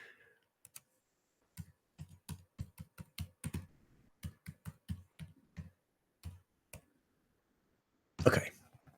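Someone types on a computer keyboard in a quiet room, a run of close, crisp key clicks in an uneven rhythm, then a louder final tap or clack.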